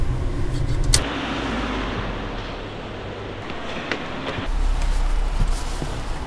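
An electric car running on green power drives through city streets, producing a steady whoosh of road and cabin noise broken by a few sharp knocks and bumps, with no one speaking.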